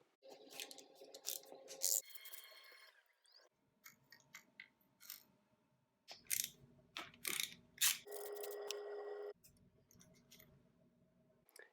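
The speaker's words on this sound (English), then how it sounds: "Next, we're going to remove the spark plugs." Ratchet wrench turning out engine spark plugs, bursts of rapid metallic clicking that start and stop in separate runs, close up and fairly quiet, with no talking.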